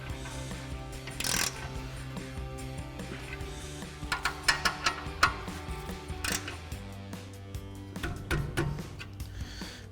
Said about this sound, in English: We'll go ahead and grab our 19 mil socket on our 1/2 inch ratchet.